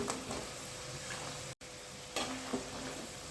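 Peanuts frying in medium-hot oil give a steady, close hiss of sizzling, broken by one abrupt silent gap partway through before the bubbling frying resumes.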